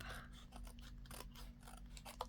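Scissors snip and rasp through paper scraps while trimming the top and bottom edges of handmade journal tags, a run of quick close cuts with a steady low hum underneath.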